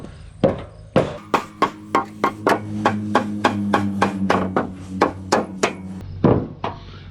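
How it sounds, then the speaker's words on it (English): Improvised sledgehammer tapping a wooden trailer deck board into place: about fifteen sharp, close knocks in a steady, fairly quick rhythm, with a couple of heavier blows at the start and end. "So I'll tap with my improvised sledgehammer."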